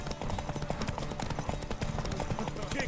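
Rapid clip-clopping hooves of a galloping horse in The Witcher 3: Wild Hunt, steady and close, mixed with busy game sounds and voices talking over them.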